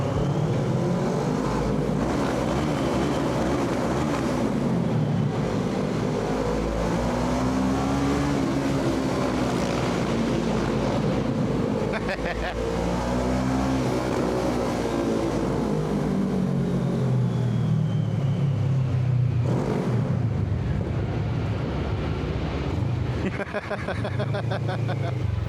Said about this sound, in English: So, I'm back on the bike.